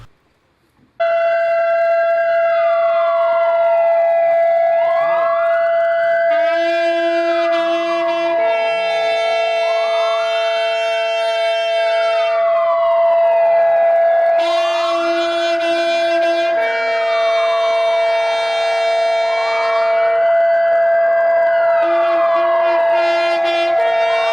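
Civil defense sirens wail during a two-minute silence at a November 10 commemoration ceremony at an Atatürk monument, several overlapping sirens rising and falling in long, loud, steady cycles with no talk.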